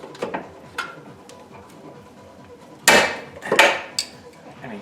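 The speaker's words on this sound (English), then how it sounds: "all I'm doing is going in here and cutting this clamp off." Cutting a clamp off during a Ford Focus ST rebuild: light taps and clicks give way to two sharp, loud snapping bursts close to the microphone near the end, followed by a brief click.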